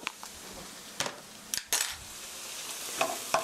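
Chili powder and green onion stir-fried in a pan for braised tofu: a soft background sizzle broken by several sharp scrapes and clinks of the utensil against the pan.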